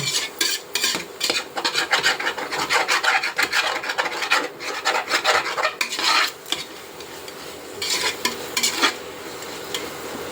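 Biryani masala in a pot is stirred vigorously, with rapid, continuous scraping and rasping strokes up close and a light sizzle beneath.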